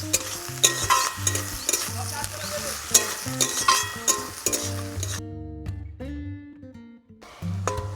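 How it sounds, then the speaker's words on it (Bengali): Onions fry in a pan for spinach green chicken and are stirred repeatedly, with bursts of sizzling and scraping strokes over a steady tonal background. The sizzle drops away briefly near the end before returning. "আমি ভালো করে লাল লাল করে পেঁয়াজটা ভেজে নেব"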